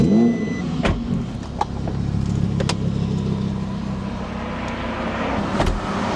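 A BMW M3 with a valved exhaust idles loud and close, a steady rumbling drone punctuated by several sharp clicks and knocks.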